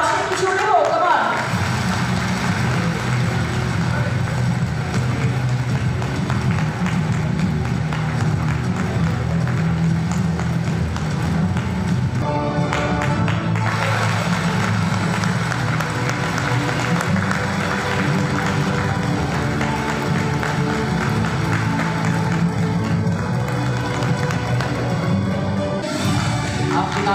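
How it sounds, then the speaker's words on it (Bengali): A large audience claps at a Tropical Agro dealers meet in Lataguri, North Bengal, a dense continuous wash of applause and crowd noise with brief dips, loud and close throughout, with voices mixed in. "হাততালির একটা আওয়াজ একটু শুনতে হবে"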